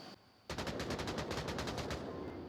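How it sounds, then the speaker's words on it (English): A rapid burst of automatic gunfire comes from the VR shooter game Onward, about a dozen quick shots in an even rhythm. It sounds fairly distant and fades at the end. "He does hear those gunshots."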